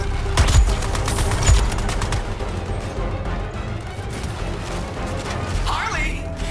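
Dense gunfire and explosions rattle in the video game Suicide Squad: Kill the Justice League, a continuous loud barrage of shots with booms, voices mixed in.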